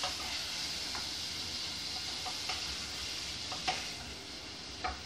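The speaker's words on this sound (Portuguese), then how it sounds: "Aí agora eu vou fritar a linguiça" Linguiça sausage frying in a pan, a steady close sizzle and hiss with occasional sharp pops and spatters, moderately quiet and with no talking.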